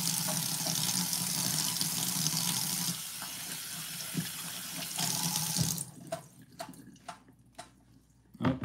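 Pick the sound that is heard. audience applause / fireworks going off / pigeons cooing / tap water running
tap water running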